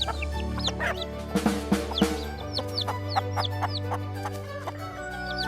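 Chickens cluck in a busy farmyard chorus of short, repeated, chattering calls, some loud and close, over a low steady background hum.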